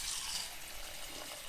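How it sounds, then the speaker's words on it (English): Black sticky rice being rinsed in water, with a quiet running-water wash and soft sloshing close by, faint and continuous. "This is black sticky rice, Ketan Hitam. It's so beautiful and we need to wash it."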